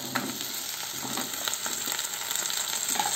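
Okra and onions sautéing in hot oil for a kara kuzhambu, a steady close sizzle and crackle with faint clicks of stirring, no voices.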